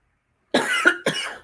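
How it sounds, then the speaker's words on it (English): A person gives two sharp, close coughs in quick succession after a moment of silence. "Sorry guys, I'm coughing."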